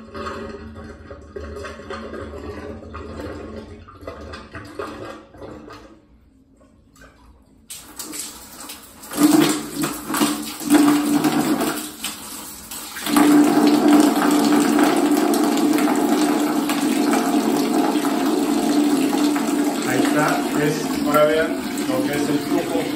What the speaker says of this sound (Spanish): Ahorita nos va a aventar agua.